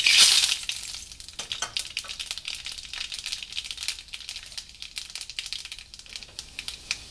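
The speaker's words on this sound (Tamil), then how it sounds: "நீங்கள் வந்து இந்த கடுகு, வெந்தயம், அப்புறம் இந்த சுண்டக்காய் வத்தல் இது 3ஐயும் நீங்கள் போட்டு தாளிச்சிடணும்." Mustard seeds, fenugreek and dried turkey berries temper in hot oil for a brinjal tamarind curry, crackling and popping in dense, irregular bursts over a continuous frying hiss.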